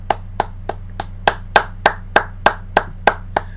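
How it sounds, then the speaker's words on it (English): Slow, evenly spaced claps, about a dozen crisp close hand claps in a steady rhythm at a wrestling recap show, with a low hum underneath. "Let's clap for Roman."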